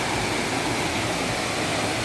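Steady, dense rush of a flowing stream in the Sinharaja rainforest, close and continuous, with no voices over it.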